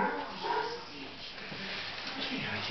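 A small dog barks and whimpers faintly, partly buried beneath ongoing conversation in a room.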